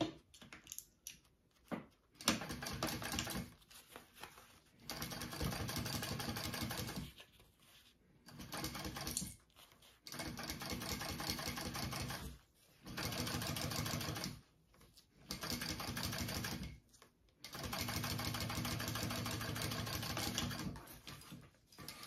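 A sewing machine top stitches along the zipper side of a backpack in several bursts of rapid, even needle chatter, separated by short pauses, close and clear with no talking.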